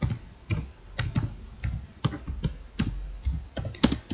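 Keys on a computer keyboard tapped in short irregular bursts, with clustered clicks spaced about half a second apart, close and fairly quiet with no voices.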